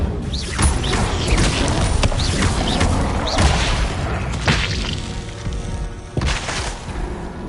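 In Hogwarts Legacy, the Incendio fire spell bursts out in repeated booming, whooshing blasts with crashing impacts spread across the stretch, loud and close amid game effects.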